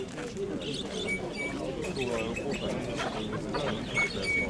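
Pigeons coo and chirp at an open-air market, soft repeated calls mixed with bird chatter under people talking and general crowd background.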